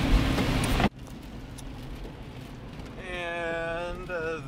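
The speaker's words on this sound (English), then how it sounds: "I gotta focus, it's raining and wet." Rain and wet-road noise inside a car being driven, a loud steady hiss that cuts off abruptly near the start, leaving a quieter rumble joined later by a rising tonal whine.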